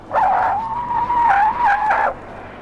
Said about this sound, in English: Just listen to a full panic stop from 50 miles an hour.